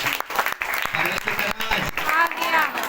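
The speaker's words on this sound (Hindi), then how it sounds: "इससे जोरदार ताली से प्रभु को धन्यवाद।" Congregation at a church prayer service claps together in a sustained round of applause while a voice carries on speaking over it.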